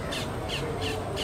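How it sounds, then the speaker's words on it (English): Crows caw behind an outdoor food booth at Epcot, four evenly spaced calls ringing over a steady wash of crowd and ambient noise. "you have some bird friends behind you talking away"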